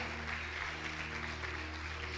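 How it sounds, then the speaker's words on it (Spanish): A church congregation claps along during a worship service, a steady, dense wash of applause at a fairly low level with sustained keyboard or organ tones holding underneath throughout. "Dele un aplauso bien fuerte a Jesús en esta hora."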